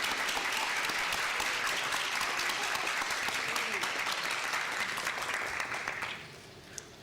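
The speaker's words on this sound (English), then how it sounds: "Let us give a huge round of applause to all our graduates" A graduation ceremony crowd gives the graduates a long, steady round of applause, dense and loud throughout, then thinning and tapering off near the end.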